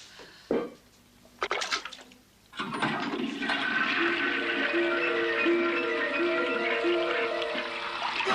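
A toilet flushes in a film scene. A few sharp clunks come first, then water rushes loudly and swirls down the bowl, continuing steadily to the end.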